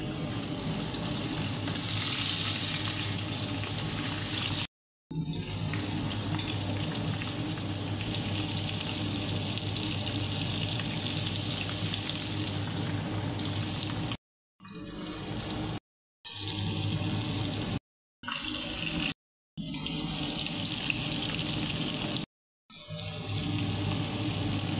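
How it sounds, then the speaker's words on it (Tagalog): Continuous loud sizzling and crackling of leftover chicken wings frying in hot oil, broken by several abrupt silent cuts. "Kunting prito lang yan"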